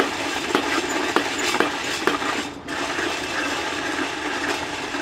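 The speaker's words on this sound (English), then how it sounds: "start the crank going. You can hear it popping." A Whirley Pop popcorn popper roasting coffee beans gives a steady whooshing rumble from its turning crank, with faint periodic clicks as the handle turns round, continuous and near throughout.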